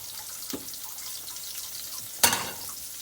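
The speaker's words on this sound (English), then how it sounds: "Rinse my fingers off and get another plate ready to drain them." Water from a kitchen tap splashes briefly as fingers are rinsed between batches of frying Chicken of the Woods mushrooms, with a short burst standing out over a soft background hiss.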